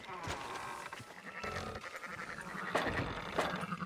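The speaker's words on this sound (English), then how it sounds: "Fine sheep." Sheep in the video game Red Dead Redemption 2 give several short bleats at low level amid ambient game sound, with a few separate calls spread across the moment.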